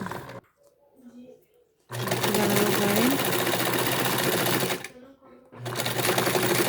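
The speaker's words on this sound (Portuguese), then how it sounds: "Aí eu venho com a costura direto." A sewing machine stitching a fabric case for face masks runs in two loud, steady bursts of rapid whirring, separated by short quiet pauses where a voice talks softly.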